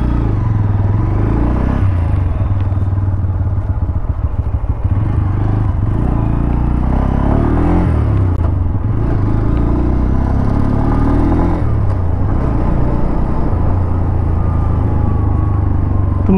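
Bajaj Pulsar N125 motorcycle engine while riding in first gear, a loud, steady close-up rumble and drone throughout with shifting revs and wind noise.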